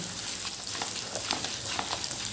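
Chana dal and dried red chillies crackle in hot oil in a pan, a steady close sizzle with bright popping spatters throughout.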